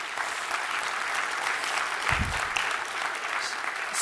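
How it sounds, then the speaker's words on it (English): Steady applause from a large conference audience at a Microsoft Ignite tech session, dense continuous clapping throughout with a brief low thump midway. "How about another round of applause"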